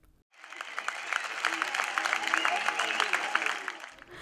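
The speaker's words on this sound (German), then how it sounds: "Ebenso nicht enden wollend, der Applaus." An outdoor festival audience in Brandis applauds after a fireworks show: a steady wash of many hands clapping that swells, holds and fades out over a few seconds.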